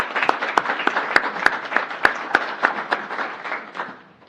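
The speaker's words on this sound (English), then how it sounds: "Let's give Judge Mary a round of applause." Council meeting audience applauding to welcome Judge Mary, a steady round of claps with a few sharp, loud individual hits, fading away toward the end.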